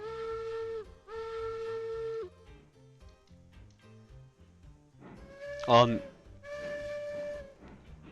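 Train whistle in a multiplayer video game, two steady whistle blasts followed by a shorter sharp whistle and another blast, heard under occasional speech and game noise.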